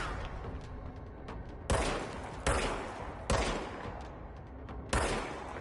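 Gunfire from shooting in the game Control, four sharp, loud shots spaced roughly a second apart, each with a short echoing tail over low background game ambience.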